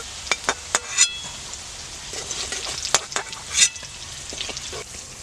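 Giant taro (maan kochu) crackles and spits in hot oil close by. Sharp pops and scraping clicks break through the frying hiss at irregular moments.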